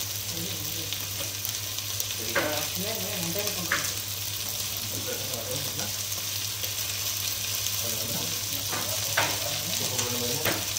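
Broccoli frying in a pan for chicken broccoli, a steady close sizzle running the whole time with occasional stirring scrapes and faint background voices.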